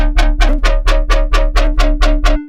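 Distorted, filtered drum and bass synth bass played on very low notes, nine loud gritty growling stabs in a quick even rhythm, each with a bright buzzing attack over a heavy low rumble.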